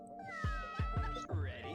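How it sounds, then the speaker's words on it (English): A cat gives a quick series of short, close meows, three or four rising-and-falling calls within a couple of seconds. "Meow"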